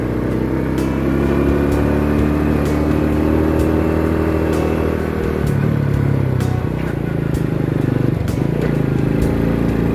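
An old Honda Supra motorcycle engine runs steadily in third gear while riding, a loud, continuous drone close by with small surges of revving and no break for the full ten seconds.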